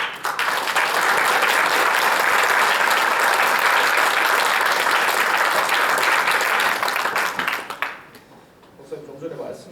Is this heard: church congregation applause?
yes